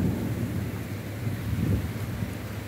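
Rain falls steadily in Sharjah with a low rumble of thunder and some wind noise, a dense continuous wash without voices.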